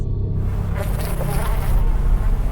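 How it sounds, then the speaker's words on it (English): Flies buzz in a dense, continuous swarm drone over a corpse in a horror audio drama, a close, steady insect hum holding at even loudness with no voices. "Flies begin to swarm around my corpse"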